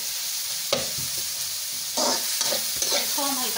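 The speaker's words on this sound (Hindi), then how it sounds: "इसको हम हल्का सा भूनेंगे" Okra being lightly fried in a pan with masala sizzles steadily while a spoon stirs it in a few scraping strokes, close and clear with no speech.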